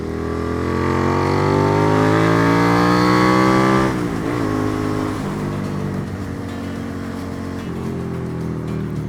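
A Suzuki SV650 motorcycle accelerates hard through third gear, its engine note climbing steadily in pitch before a sharp shift cuts it back, then building again more roughly, loud and close with no voices.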